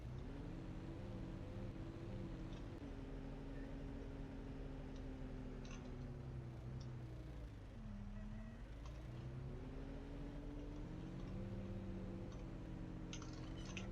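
A Mercedes-Benz tractor engine in Professional Farmer drones steadily, a continuous low rumble with a brief dip in pitch midway, with no talking.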